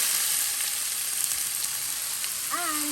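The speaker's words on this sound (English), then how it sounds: "steam it on the stove with this frying pan with hot oil, and you just pour the green papaya in there" Green papaya hits a hot oiled frying pan on a stove, giving a steady bright sizzle that fills the clip, close and even, with a short high squeak of metal near the end.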